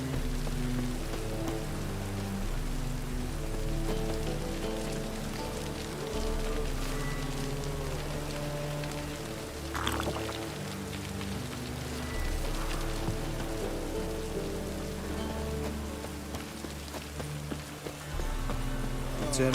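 Steady rain patters throughout over a sustained layered musical drone in The Witcher 3: Wild Hunt, with soft footstep-like clops now and then; a voice speaks briefly.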